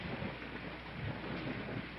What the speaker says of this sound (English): And Chip sat in the mud in the cold rain